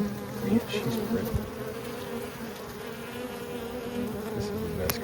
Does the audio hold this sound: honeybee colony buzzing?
yes